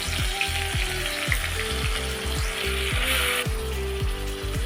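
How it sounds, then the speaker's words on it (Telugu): Thinly sliced onions frying in hot oil in a pan with cloves and cardamom for a gongura chicken curry, giving a loud, steady sizzle with bursts of crackle that run the whole time. "ఈ అల్లం వెల్లుల్లి పేస్టు, ఉల్లిగడ్డలు బాగా ఫ్రై అవ్వాలండి"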